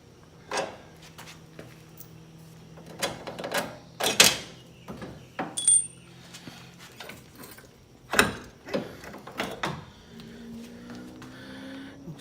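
Metal axle sliding and clunking out of a clean wheel hub, with a series of sharp knocks, scrapes and clanks spread across the clip, some loud and close, separated by quieter pauses.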